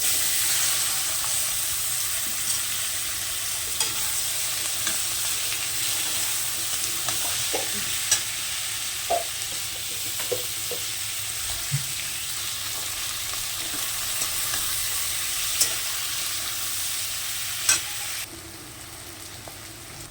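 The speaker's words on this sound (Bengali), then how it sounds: "তেলের মধ্যে কালো জিরে ফোড়ন দিচ্ছি, এবার আমি পেঁয়াজটা দিয়ে দিচ্ছি।" Onions sizzle steadily in hot oil tempered with nigella seeds in a fish curry pan, with occasional sharp scrapes and clinks of stirring over a continuous broadband fry, close and fairly loud throughout, easing off near the end.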